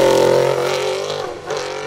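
A BMW M3 E92 race car in a Limonest hill-climb production-series event roars loudly and close, its engine note dropping briefly before picking up again.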